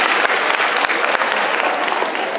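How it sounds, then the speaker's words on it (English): An audience claps loudly and continuously in a dense, close burst of applause with a few sharper individual claps standing out. "Give her a big round of applause."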